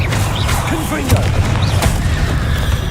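A Confringo explosion spell in Hogwarts Legacy goes off as a booming blast amid combat noise, with a voice speaking over the action and further crashing impacts following.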